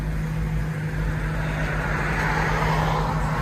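BMW M3 with a 4.0L V8 running on Meisterschaft and Vibrant exhausts, a steady loud engine drone with a strong low hum, close and continuous with no talk.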